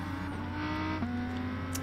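Race cars in the Gran Turismo Sport video game roar along the track, with close engine tones that rise and shift in pitch as they slipstream one another, and no talk.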